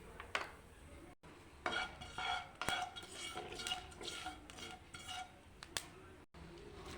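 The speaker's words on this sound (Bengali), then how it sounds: "গোটা কালো জিরে আর শুকনো লঙ্কা দিয়ে দিচ্ছি" Whole black cumin seeds and dried red chilies go into a hot pan and are stirred, giving scattered metallic clinks and scrapes of a spoon against the pan, faint and intermittent over a low background.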